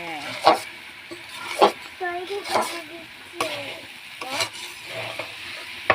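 Taro stems with peel frying into a bhaji in a pan, with repeated stirring scrapes and a steady sizzle, the strokes coming every second or so.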